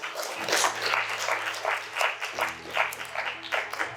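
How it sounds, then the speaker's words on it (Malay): At an SPM exam-preparation seminar, an audience claps in a short round, the rapid hand claps rising and falling in waves over a low background hum. "Beri tepukan."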